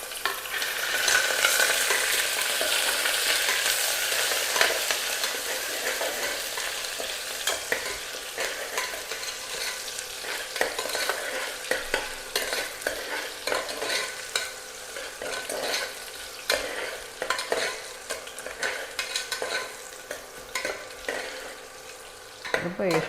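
Onion and three green chillies sautéing in ghee in a pressure cooker for Kerala ghee rice, a steady sizzle overlaid with repeated spatula scrapes and clacks as it is stirred, growing more rhythmic and punchy toward the end.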